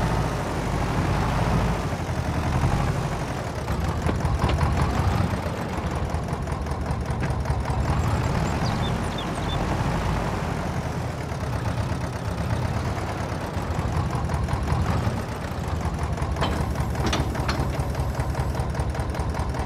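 Tractor engine idling in Farming Simulator 22, a steady low rumble with a faint mechanical clatter running continuously and evenly throughout, with no talk over it.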